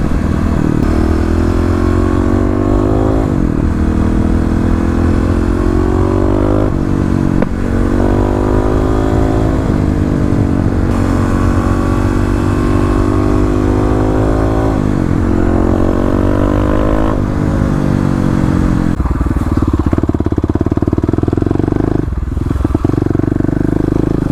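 A KLR motorcycle rides close behind with a loud, continuous engine drone, rising and falling in pitch as it shifts and revs throughout.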